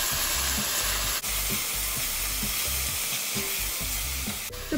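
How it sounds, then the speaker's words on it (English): Chopped onions sauté in a hot pan for spicy pasta, giving a steady, close sizzle broken by rhythmic scraping and stirring, with no talk. "Now we're gonna add our 2 medium onions cut up into here."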